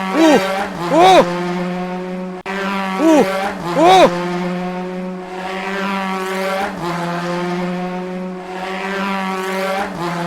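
A turbo wheel vehicle races in a penguin video game, its synthetic engine drone holding steady and loud with repeated rising-and-falling pitch swoops and whooshes, while a person exclaims over it.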